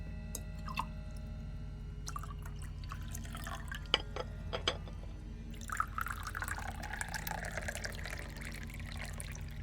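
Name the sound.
liquid being poured, from the video game Midnight Postman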